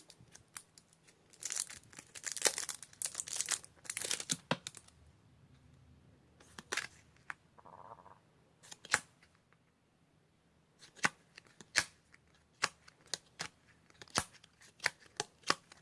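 Seventeen merchandise packaging is torn open by hand indoors, with bursts of crinkly plastic and paper tearing followed by sharp, scattered clicks and rustles, close and quiet with no talking.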